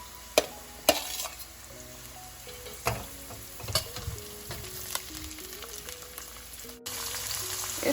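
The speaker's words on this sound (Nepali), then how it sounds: "अब यसमा ग्रीन बिन्स राख्दैछु सबैभन्दा पहिला। यसलाई एकैछिन पकाउनु पर्छ" Green beans frying in a hot pan for chilli chicken, a steady close sizzle with scattered stirring clatter and utensil taps, no talk.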